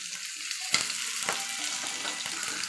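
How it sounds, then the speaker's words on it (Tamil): Mutton frying in masala, sizzling steadily and close, as the pieces are flipped: a sharp clatter of turning, then softer stirring scrapes over continuous crackle. "இப்போ இந்த மட்டன்லாம் திருப்பி போட்டுக்கலாம்"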